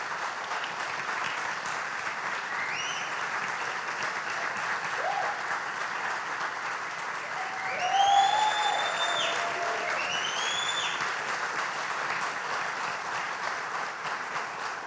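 An audience applauds at the opening of the photography exhibition 'Zumví Arquivo Afro Fotográfico' at IMS Paulista. The clapping is sustained and fills the room, swelling briefly midway, with a few faint whistles heard over it.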